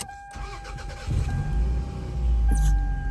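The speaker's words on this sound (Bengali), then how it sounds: "ম্যানুয়াল গিয়ার গাড়িটা এই যে স্টার্ট দিচ্ছি সাউন্ডটা শুনে আপনারা" A manual-transmission 2006 Toyota Camry engine cranks and catches, rising from a brief starter whirr into a steady close idle that swells louder near the end.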